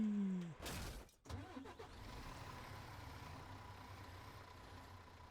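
A vehicle in the ranch-farming video game Ranch Simulator, a couple of short engine bursts or revs, then a steady low motor drone running on alone.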